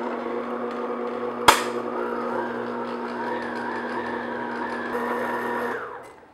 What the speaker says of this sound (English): on low speed, I'm just gonna mix all the ingredients together